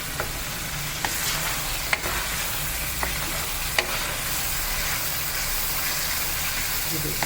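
Masala frying in oil for Punjabi chicken pulao, a continuous loud sizzle with occasional clicks of a spoon scraping the pot while it is stirred.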